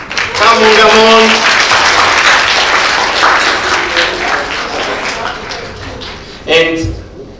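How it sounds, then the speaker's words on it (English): Loud audience applause at a digital skills event, a dense burst of many people clapping that gradually fades, with a voice speaking over it near the end. "And now a huge applause to yourselves in order to start the day with energy."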